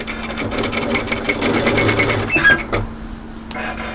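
A sewing machine runs a seam on a camisole, a fast steady stitching rhythm with a faint hum that stops near the end, followed by a small click.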